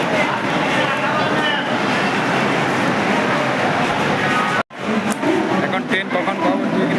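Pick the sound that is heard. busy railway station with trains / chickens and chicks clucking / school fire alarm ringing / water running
busy railway station with trains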